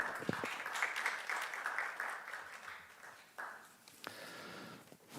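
Faint applause from an audience at an academic sports-industry contest award ceremony, fairly brisk at first, then thinning and fading, heard at a distance.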